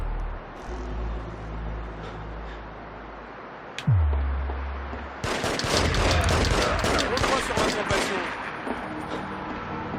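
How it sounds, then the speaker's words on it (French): Gunfire in The Getaway video game arrives as dense bursts of repeated shots after a rumbling vehicle passage and a sharp impact, loud and continuous through the second half. "Qui me tire dessus encore? Qui me tire dessus?"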